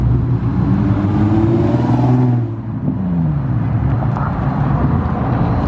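A Nissan 350Z with a very loud aftermarket exhaust revs hard at a drifting spot, a deep roaring engine note that swells and climbs in pitch, dips briefly, then rumbles on steadily and close throughout.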